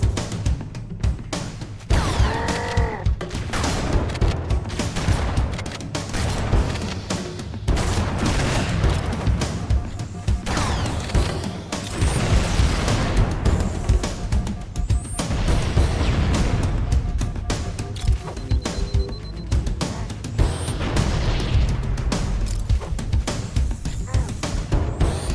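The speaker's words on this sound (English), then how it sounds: "Right, that's a grenade spam job" Grenade explosions in Halo: Combat Evolved, repeated loud booming blasts mixed with gunfire in a dense, chaotic battle that keeps going throughout, with occasional brief talk.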